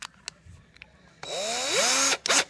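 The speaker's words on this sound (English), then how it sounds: "I'm going to take and chuck them up in my cordless drill" A cordless drill whirs up to speed, close and fairly loud, running about a second before briefly cutting out and spinning up again, with a few faint knocks before it starts.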